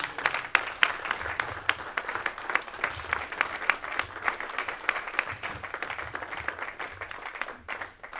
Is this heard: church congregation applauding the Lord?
yes